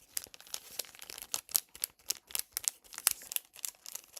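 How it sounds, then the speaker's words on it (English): Vellum packaging paper crinkling close up in quick, irregular bursts of crackly rustles and crunches, with no voices. "I love the sound of crinkly paper."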